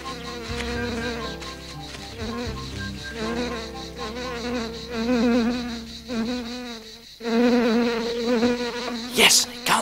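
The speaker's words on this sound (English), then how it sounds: "Ah, there must be a wasp's nest around here." Wasps buzz steadily and close near their nest, a dense droning hum that wavers in pitch for about ten seconds, with a few louder passes near the end.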